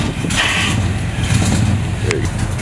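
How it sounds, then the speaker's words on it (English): A large 1970 Chevrolet C20 truck engine idles at about 450 rpm with a low, even rumble while people talk nearby over it. "It's idling at like 450."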